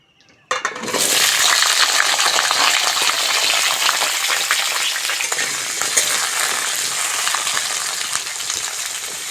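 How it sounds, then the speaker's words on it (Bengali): Potatoes and soybean chunks dropped into hot mustard oil in a kadai, a sudden loud burst of sizzling that stays dense and crackling, easing slightly over time. "প্রথমেই কড়ার মধ্যে সরষের তেল দিয়ে দেবো, দিয়ে সয়াবিন আর আলুটা ভেজে নেব"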